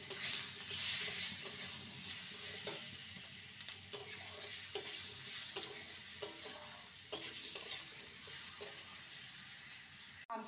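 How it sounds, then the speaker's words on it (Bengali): Mango pieces with salt and turmeric frying in a pan, a steady soft sizzle broken by scattered clicks and scrapes of stirring, with no voices. "আমটাকে 2 মিনিট ভেজে নেব"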